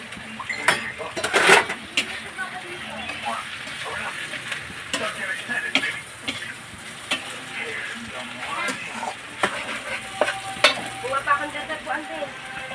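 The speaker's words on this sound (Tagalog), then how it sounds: "Ilagay na po natin yung hipon." Shrimp fries in a pan, a steady sizzle broken by scraping stirs and occasional clinks of utensil against metal, while a person talks now and then.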